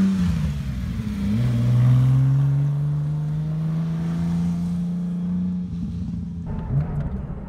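A Porsche 911 SC converted for safari driving runs off-road, its engine note rising and falling steadily and closely, with a brief revving surge near the end.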